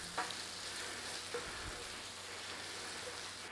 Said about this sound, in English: stir that in there